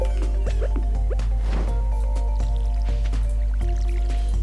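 Watering can pouring water in the farming video game Stardew Valley, heard as soft squishy splashes and drips repeating over a steady game music background, with no talk.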